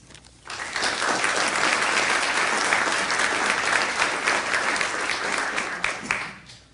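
Sustained audience applause welcoming Jim Brownell to the stage at the KIS Showcase 2010 opening, dense clapping that swells quickly, holds steady for several seconds, then tapers off.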